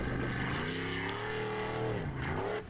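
The Simba formula offroad car labours up a steep banking at an Icelandic formula offroad round in Hella, its engine revving loud and steady, then rising in pitch before easing off near the end.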